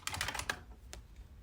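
Quiet keystrokes on a computer keyboard as a password is entered, a short burst of about five or six soft clicks in quick succession over a second and a half, faint and alone.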